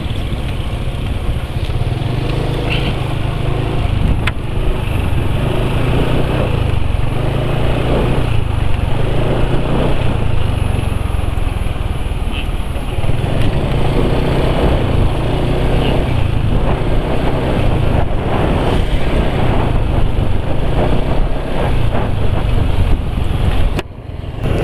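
Motorcycle engine running on old, worn Vanolube SAE 40 oil, a loud steady close idle with rough, uneven pulsing throughout and wind noise on the microphone.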